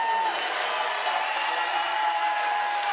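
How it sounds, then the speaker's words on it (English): Hockey fans in an arena cheer for the Bandits late in a Doyle Cup game, a steady, distant roar of crowd noise with scattered whoops under a sustained tone. "Fans cheering on the Bandits"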